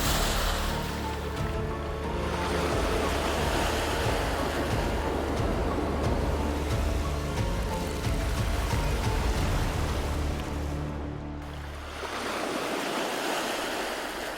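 Heavy surf churns and roars continuously, a broad rushing wash of breaking waves with a brief dip in intensity near the end, as killer whales create a giant artificial wave against an ice floe.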